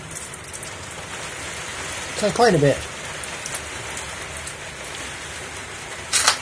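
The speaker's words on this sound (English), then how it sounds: "I'll just show you how much rain comes in." Rain runs down a wire downpipe into a small barrel, making a steady soft patter and trickle throughout, with a louder splashy burst midway and another near the end; someone speaks briefly.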